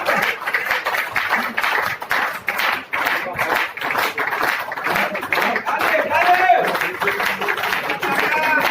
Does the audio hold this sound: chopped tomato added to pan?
no